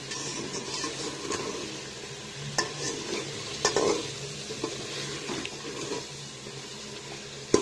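Boiled chana dal is stirred into a frying mutton gravy. A soft sizzle runs underneath while a spoon scrapes and knocks against the pot in scattered, irregular strokes, with no talking.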